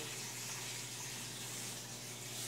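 Water flows steadily through a pipe in a one-barrel aquaponics tilapia tank set up in an apartment, a continuous soft rushing hiss with no breaks.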